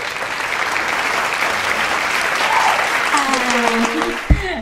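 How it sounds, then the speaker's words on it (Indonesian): A studio audience breaks into steady applause lasting several seconds, with voices starting to speak near the end and a sharp knock just before it fades. "Tepuk tangan"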